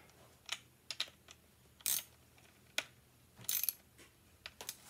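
A 10 millimeter socket wrench tightens the nuts of new tuners on a T-style electric guitar headstock, giving a handful of sharp, separate metallic clicks and ratchet ticks up close with quiet gaps between them.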